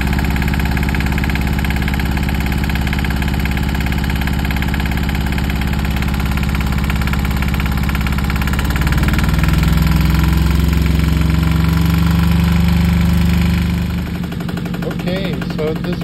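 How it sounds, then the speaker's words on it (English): A small Yanmar 1GM10 marine diesel engine on a Flicka 20 sailboat idles steadily with a loud, rhythmic knocking chug, the pitch shifting slightly partway through, close and continuous. "you want to keep running the engine long enough for the thermostat to open"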